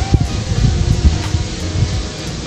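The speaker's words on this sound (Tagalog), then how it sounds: "Ang lakas ng hangin." Strong wind buffeting the microphone in low, rumbling gusts, loud and close, with no clear voices.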